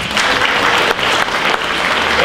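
Steady applause from a crowd honouring a nominee at a local Garkalne awards event, continuous clapping for the full stretch with no pauses.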